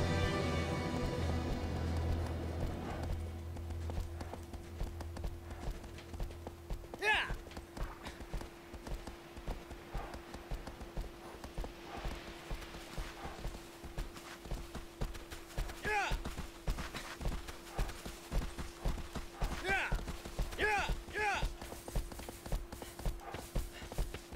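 Hooves of a horse clip-clopping at a brisk pace in the video game Shadow of the Colossus, a steady rhythmic patter across the whole stretch after a brief louder opening, with a low hum underneath.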